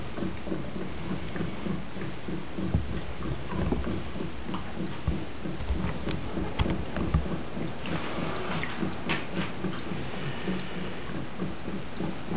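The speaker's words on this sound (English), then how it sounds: "Bubbler going." HHO generator bubbler bubbling steadily, a continuous rapid gurgle of gas through water with a regular pulsing rhythm, close and fairly quiet, with a few faint clicks.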